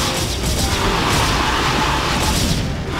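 Mutalisks attack Protoss cannons in the video game StarCraft: Brood War, making a continuous, loud barrage of crunching impacts and booming bursts that blur together without pause, with no voice present.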